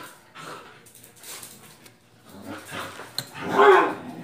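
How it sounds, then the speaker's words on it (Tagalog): Several dogs at home give short yips and whimpers, close and fairly soft, with a louder whine near the end. "Yan, yung mga aso ko."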